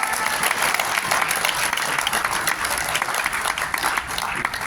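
An audience at a press conference meeting gives a sustained round of applause, a thick, continuous wash of many clapping hands at a strong, even level throughout.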